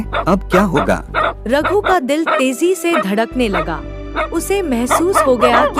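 Dogs bark at night in a village, the yapping bursts sitting beneath a narrator's steady voice in a Hindi moral story.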